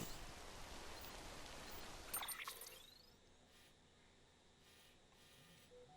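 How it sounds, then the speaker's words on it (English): Rain in the video game Death Stranding pours as a steady hiss that fades sharply after a few seconds into a quieter, faint ambient bed. "how long does it take for the rain to pass?"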